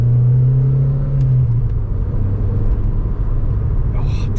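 An MG ZR 160 hatchback drives along a road with a steady, close engine rumble and low tonal drone that eases after the first second and a half, with talking over it.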